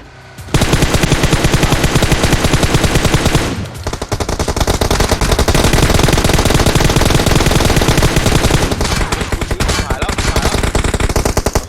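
Gunfire in PUBG Mobile: loud, sustained automatic bursts of rapid shots, with a brief break before the firing resumes and carries on steadily to the end.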